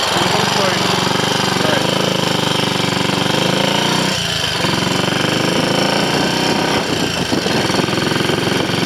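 A Triumph Scrambles Cub replica motorcycle, its single engine fitted with a carburettor borrowed from a Trials Cub, runs steadily and loud while riding along a road at low speed, a dense continuous rattling drone that never drops away.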